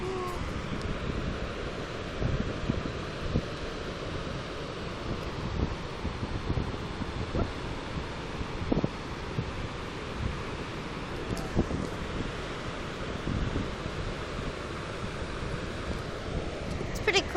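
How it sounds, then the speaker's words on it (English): A large waterfall rushes in a continuous broadband roar, heard from a distance and buffeted by wind against the microphone, with occasional bumps and faint voices. "It's pretty cool. It's a nice big waterfall too."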